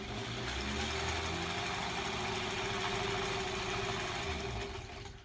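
A sewing machine stitches a quilt block with a steady, continuous mechanical hum and rapid needle rhythm, quiet and close, with no talking.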